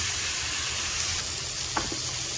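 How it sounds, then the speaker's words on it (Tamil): Kerala-style fish pollichathu frying in a pan gives a loud, continuous sizzle throughout, with a brief clack near the end. "மீன் வந்து வெந்துட்டுருக்கு மீனை திருப்பி போட்டு வேக வச்சுக்கலாம்"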